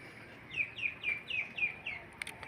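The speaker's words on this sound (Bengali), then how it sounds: "এই যে এটাও আমাদের নতুন কবুতরের বাচ্চা।" Newly hatched pigeon chicks give a series of about six thin, evenly spaced cheeping calls, faint and close, with no other sounds.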